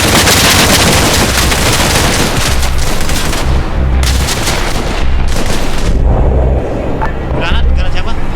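A grenade explosion and dense gunfire in Arma Reforger during an apartment clearing near Hostomel, with loud, repeated bursts and booms throughout and occasional lulls.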